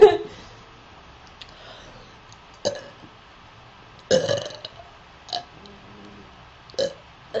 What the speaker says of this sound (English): Arr, burps.